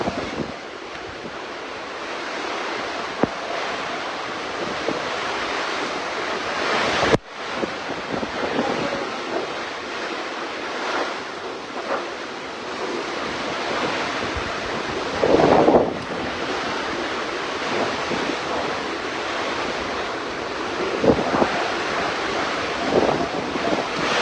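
Typhoon Kristine drives a steady roar of wind and rain that buffets the microphone, with a sudden drop and a few louder gusts along the way and no voices.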